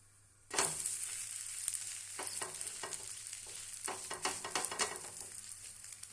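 Kara dosa sizzles steadily on a hot pan, a dense crackling hiss that starts abruptly and continues close and even, dotted with sharper pops and scraping ticks, with no one talking.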